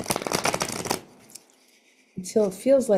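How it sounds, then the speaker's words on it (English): A deck of tarot cards is shuffled by hand, a dense papery flutter for about a second. A short pause follows, then a nearby voice speaks. "So I'm going to show you my shuffling."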